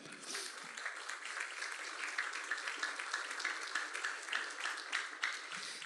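Church congregation clapping in praise, a continuous dense patter of many hands at moderate level with no talking over it.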